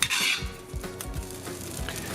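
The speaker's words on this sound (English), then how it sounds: "by frying an egg directly in it." An egg fries in a wok, sizzling briefly at first, then a spatula scrapes and clinks against the metal in quick, uneven strokes, close and fairly loud.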